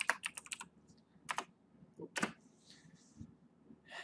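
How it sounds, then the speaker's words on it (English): Someone types a name on a computer keyboard in short quick bursts of close, light key clicks separated by brief pauses, fairly quiet. "So let me type in a name here."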